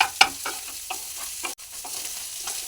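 Egg stir-fried with vegetables for egg veg rice, a soft continuous sizzle broken by repeated quick scraping strokes of a spatula in the pan, close up with no voices.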